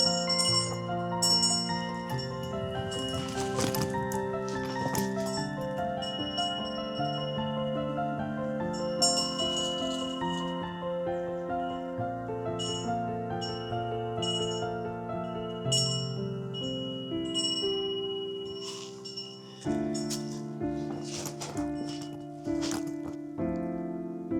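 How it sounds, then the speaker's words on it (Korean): Delicate metallic chimes of a temple wind bell on Gamaksan mountain in Korea tinkle and ring continuously, overlapping tones sustaining and blending, with occasional brighter clusters as they sway; no voices. "풍경 소리가 너무 좋아요."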